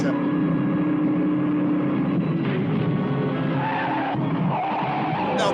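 Cars skidding with sustained tire squeal, a continuous loud screech and engine roar that shifts in pitch throughout, with no pauses.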